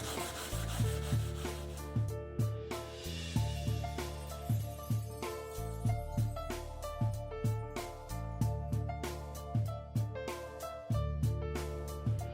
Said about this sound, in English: So I'm going to just go right next to the seam line and sand.